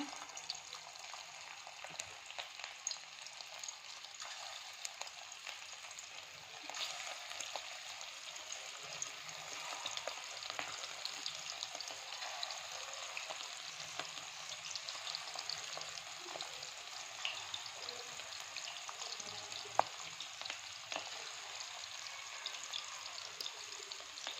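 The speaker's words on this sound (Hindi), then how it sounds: "अब हम इसमें कोफ्ते डालेंगे।" Koftas fry in hot cooking oil, a soft, steady crackling sizzle with small pops, low in level and continuous, with no talk.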